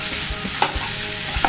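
Hotdog pieces are being stirred into chicken and liver igado in a sizzling pan. A constant frying hiss runs under several scraping strokes of the spoon, close and loud, with no speech.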